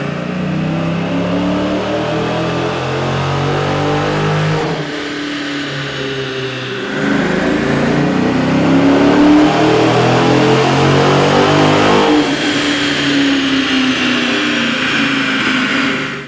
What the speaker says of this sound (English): Here's a comparison of the vehicle sound on the dyno with the stock OEM system versus AEM's air intake.